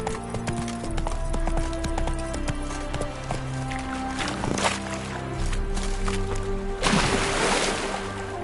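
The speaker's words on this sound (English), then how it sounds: "Run, Roach." Hooves of the horse Roach galloping in The Witcher 3 game, a fast continuous clip-clop rhythm throughout with game music and ambient sounds, plus a splashy burst near the end.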